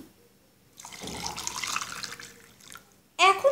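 Water poured into a glass holding lemon juice and psyllium husk for a lemon sharbat: a steady splashing pour of about two seconds, then a short sharp clink near the end.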